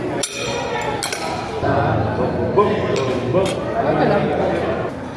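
Glasses clink together in a toast over mango shakes at a restaurant, several sharp chinks near the start amid lively background chatter and voices that continue throughout.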